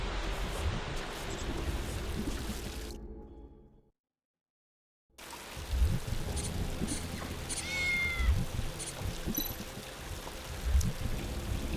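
A cat meows in the video game Tales of the Neon Sea over steady ambient rain-like game noise, with brief mewing calls rising faintly above the backdrop and a short silent gap midway.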